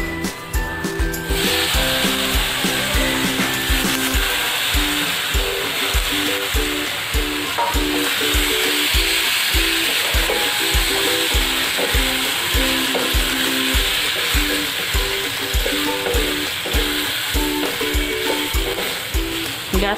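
Vegetables fry in masala in a pan over a low gas flame, with a steady loud sizzle and repeated scraping stirs of a spoon, without talk.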